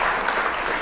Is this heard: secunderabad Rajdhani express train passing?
no